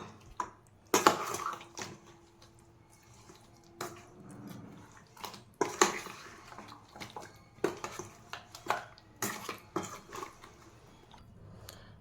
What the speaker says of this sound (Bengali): লঙ্কা দিয়েছি তো হাত দিয়ে মাখালে জ্বালা করবে, তার জন্য চামচ দিয়ে ম্যারিনেট করে নিচ্ছি